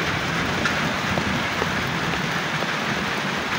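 Heavy rain pours down outdoors, a dense continuous hiss of drops hitting surfaces with scattered sharper splashes, loud and steady throughout with no voices.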